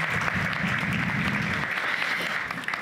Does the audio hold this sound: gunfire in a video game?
no